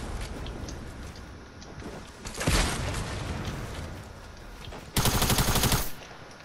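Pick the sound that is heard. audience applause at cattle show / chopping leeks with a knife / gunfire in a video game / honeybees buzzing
gunfire in a video game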